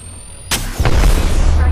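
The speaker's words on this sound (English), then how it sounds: "Throwing Arc Star." An Arc Star grenade from Apex Legends goes off in a sudden loud burst, followed by a crackling electric blast and a sustained rumbling roar that stays heavy to the end.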